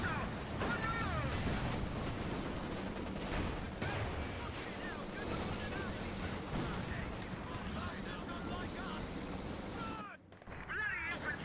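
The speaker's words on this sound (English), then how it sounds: "Bloody infantry shooting at us" Dense, continuous infantry gunfire and explosions in the Company of Heroes 2 video game, with rapid overlapping shots, heavy battle din and voices mixed in, ending in a brief drop before the firing resumes.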